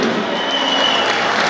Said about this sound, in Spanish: Regálenme ese aplauso